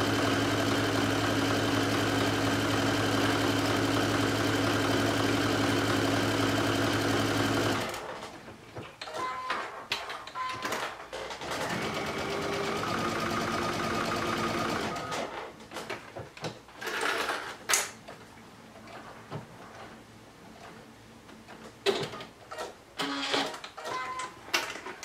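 A sewing machine bastes swimsuit top pieces with a narrow quarter-inch seam, running loud and steady, then continuing in shorter bursts separated by pauses and small handling clicks.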